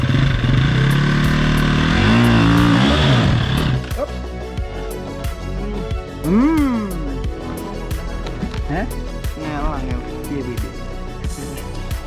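Motorcycle ride on a very slippery trail, with a loud engine drone in the first few seconds that drops to a steadier running hum under frequent speech.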